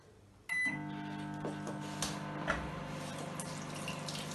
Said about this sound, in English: So I'm going to pop that in the microwave